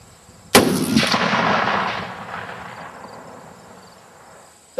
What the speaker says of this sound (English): That was an AR-50 we just shot, and as you can see, this rest easily handles all of that recoil.